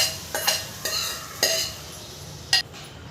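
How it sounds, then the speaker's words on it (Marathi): A spoon stirs cooked dal into fried fenugreek leaves in a pan, giving four distinct scraping, sloshing strokes with a light sizzle between them, close and fairly loud. "आता त्याच्यात आपण हे वरण जे शिजवून घेतलेलं ते वरण टाकलं मी यात."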